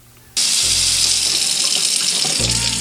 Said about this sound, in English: So now I'm going to run the water.